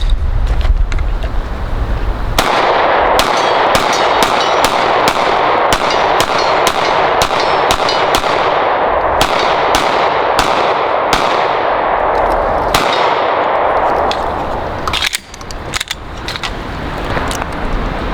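Rapid, loud Sig Sauer M18 pistol shots ring out one after another at an outdoor range, a steady string of sharp cracks over a continuous rumbling background, with a short pause near the end.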